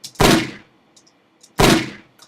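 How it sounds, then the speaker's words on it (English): Two sharp, loud gunshot sound effects, dry and centered without any stereo doubling, fire about a second and a half apart, each decaying quickly into near silence. "here's the gunshot without it"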